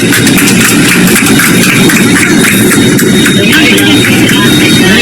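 A locomotive engine idles on the track, a loud, steady rumbling drone with rattling texture and no pauses, filling the whole stretch.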